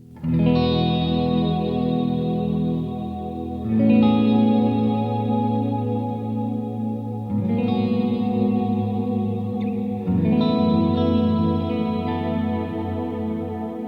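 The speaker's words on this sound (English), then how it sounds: "you'll start to hear that reverb and delay" Sustained electric guitar chords through a Jet Pedals Red Sea pedal ring out with heavy reverb and echoing delay, four strummed phrases in a row, loud and alone.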